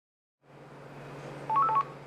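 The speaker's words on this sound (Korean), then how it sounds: "5월 초 탐사K 팀으로 걸려온 한 통의 제보 전화." Telephone dialing tones for a tip call ring out: a steady dial tone begins after a brief silence, then a quick run of several key beeps sounds loud and close.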